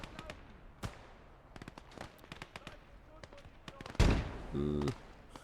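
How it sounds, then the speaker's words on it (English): Gates of Hell: Ostfront battle with a burst of sharp gunfire cracks and scattered shots, then a heavy close grenade blast followed by a rumbling echo, all fairly faint. "We'll get a couple nades off as these guys are coming down the hill."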